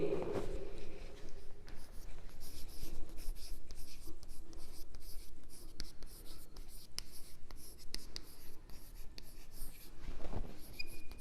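Pens scratching on paper as students write during an English class, a steady run of soft scribbling strokes close by, with faint room noise and no clear talk.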